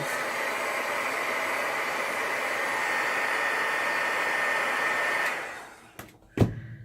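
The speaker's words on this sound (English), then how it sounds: "I just take my heat gun here, and I run it over it really quick" A heat gun blows a steady, loud broadband roar while melting stray hot-glue strings, then cuts off near the end, followed by a couple of short clicks and a brief bump as it is set down.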